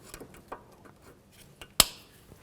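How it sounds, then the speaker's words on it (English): Side cutters snip the excess end off a cotter pin on a 2013-18 Nissan Sentra front outer tie rod: one sharp, close metallic snap stands out amid faint handling clicks and taps. "Use some side cutters. Just bend the tab over. You can cut off the excess."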